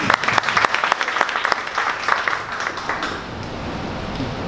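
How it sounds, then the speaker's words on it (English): A conference audience gives a round of applause, dense clapping loud and close at first, then thinning and fading toward the end. "Round of applause for that."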